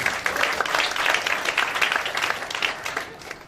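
A crowd at a business event claps enthusiastically in a short burst of dense, lively applause that continues to the end.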